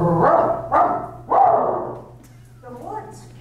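A dog running ahead through woods that reach down to the sea barks three times in close succession, loud and near, then gives a softer bark after a short pause.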